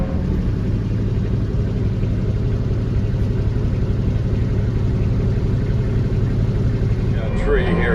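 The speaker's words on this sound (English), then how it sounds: "I can run the engine wide open, but control the forward speed" A Bobcat T650 skid steer fitted with a CID Extreme mower runs its engine wide open with a constant, heavy low rumble. Someone talks over the engine noise.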